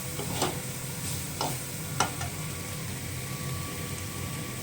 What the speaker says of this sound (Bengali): তারপরে ভালো করে ভেজে নিতে হবে।